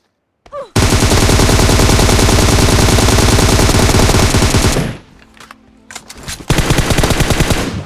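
Sustained automatic gunfire in PUBG Mobile on the Erangel map, a loud rapid stream of shots that runs for about four seconds, drops to quieter scattered sounds, then bursts again near the end with no talking.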